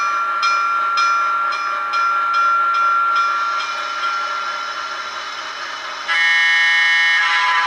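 Broadway Limited model train locomotive sound system playing steady chuffing and hissing steam effects with rhythmic beats, then a louder whistle-like blast near the end, close and alone.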